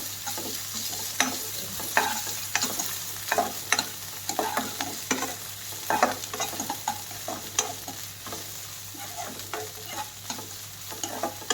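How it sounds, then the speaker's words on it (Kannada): Ginger garlic paste fries in a hot pan with a loud, continuous sizzle while a spoon scrapes through it in quick, repeated strokes. There is no talking. "ಇದಕ್ಕೆ ಶುಂಠಿ ಬೆಳ್ಳುಳ್ಳಿ ಪೇಸ್ಟ್ ಆ್ಯಡ್ ಮಾಡ್ತೀನಿ ಸೊ ಚೆನ್ನಾಗಿ ನಾನು ಫ್ರೈ ಮಾಡ್ಕೋತೀನಿ"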